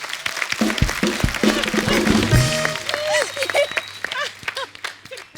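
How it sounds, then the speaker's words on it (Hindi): Studio audience on a Hindi comedy talk show breaking into applause, a burst of clapping in the first half that fades as voices and talk take over. "जोरदार तालियां इनके लिए"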